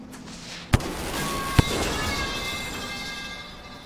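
Two sharp bomb blasts in the video game Rain World, half a second apart, followed by a rumbling, ringing tail of debris and echo.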